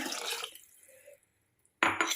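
Water pours into a pan of fish curry with tomatoes: a short splashing pour, a quiet gap, then a louder burst of liquid and clatter.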